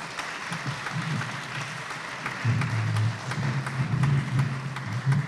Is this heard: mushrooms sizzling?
no